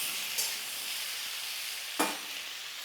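Malabar spinach flowers frying in a hot pan, a soft steady sizzle with two brief scraping stir strokes, close and quiet, no voices.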